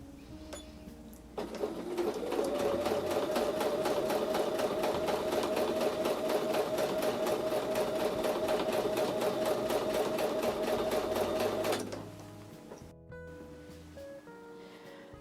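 A sewing machine stitches a quilted Christmas table runner in one continuous run of about ten seconds, its rapid, even needle chatter close and steady before it stops abruptly.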